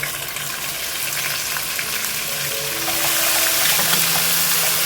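A steady hiss of garlic ginger paste sizzling and frying with cumin in a hot pan, growing louder partway through, with faint stirring sounds and no talking.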